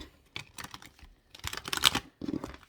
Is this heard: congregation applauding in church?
no